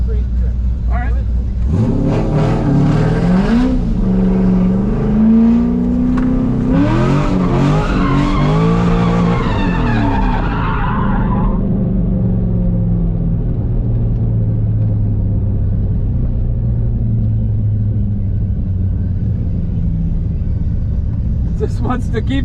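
A C5 Corvette drifts with loud squealing tires and a revving engine for about ten seconds, then settles into a low rumble while people talk.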